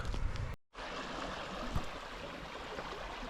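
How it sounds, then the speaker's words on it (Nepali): The Geruwa river flows as a faint, continuous watery rush and trickle, briefly cut by a short dropout. "गेरुवाको खोला"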